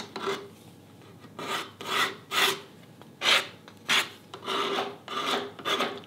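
A steel cabinet scraper smooths a wooden marking gauge in a woodworking shop, about ten rhythmic rasping strokes, each a short bright scrape separated by brief pauses, close and clear with no talk.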